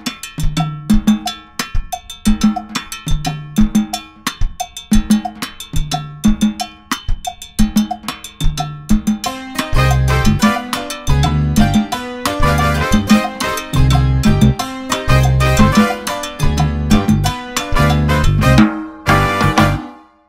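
A salsa groove played on a drum kit, with a steady cowbell pattern, kick and hand-drum-like tom figures, starts sparse and thickens into a full, busy rhythm before stopping abruptly near the end.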